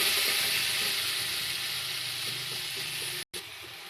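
Cumin powder with green chilli paste and chilli paste sizzles and hisses steadily in a hot pan, a continuous close frying sound with no voices over it.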